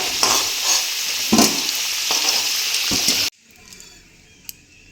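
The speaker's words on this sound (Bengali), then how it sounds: "আলুটা এবার আমি ভেজে নেব।" Potatoes coated in salt and turmeric fry in hot oil, a steady loud sizzle with stirring scrapes that cuts off abruptly partway, leaving a much quieter background with a faint clink.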